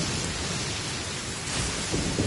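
Heavy rain pours steadily with deep rolling thunder underneath in the Genshin Impact video game, a dense unbroken wash of storm noise with no voices.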